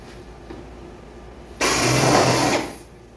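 A power drill whirs briefly at high speed for about a second, drilling through an old Sportspal canoe hull, then winds down, following quiet room tone.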